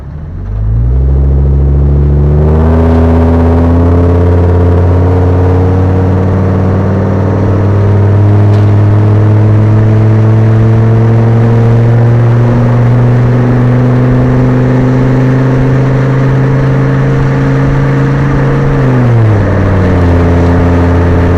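A Ford V10 Econoline van flat-towing a Geo Tracker accelerates onto a freeway. The loud engine drone from inside the cab climbs steadily, shifts gear once early and settles into a long, even cruising hum, then changes pitch again near the end.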